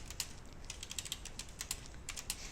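Quiet computer keyboard presses in a room, a run of light irregular key taps and clicks as a shortcut is typed for video editing software, with no speech.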